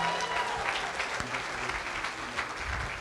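A church congregation applauds steadily for the full length, a dense, even wash of clapping hands filling the room with no pauses.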